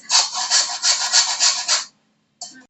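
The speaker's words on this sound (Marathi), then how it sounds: "हा मला ते किसून घ्यायचा आहे तर हाताबरोबर मी सोयी किसून घेते" Jaggery grated by hand on a kitchen grater, a run of brisk rhythmic rasping strokes, close and loud, about eight in quick succession, then a pause and one more short scrape.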